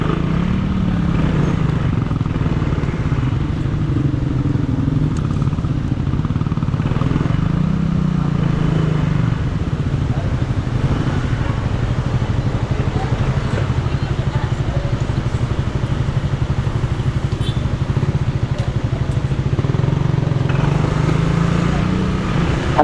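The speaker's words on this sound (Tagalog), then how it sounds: "dinadrive na po ni Kuya Efret yung motor." A motorcycle rides with a steady engine drone throughout, loud and continuous with slight shifts in pitch as it is driven, under a constant rumble of wind and road noise.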